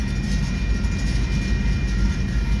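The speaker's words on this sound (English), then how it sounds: "This is a long oil train here" Long oil train rolling past the Sumner Street railroad crossing in Bakersfield, California, a loud steady rumble of wagons with a faint high tone over it, heard up close and without talk.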